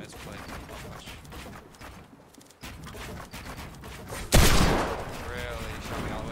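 Video game gunfire in a 1v1 match, with rapid repeated shots and clattering bursts, a loud blast partway through, and a voice talking over parts of it.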